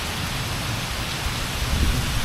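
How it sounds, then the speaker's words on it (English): Steady rain pours down around a canal in Castlefield, Manchester, with a low thunder rumble rolling beneath the constant hiss of falling drops. "it's thundering"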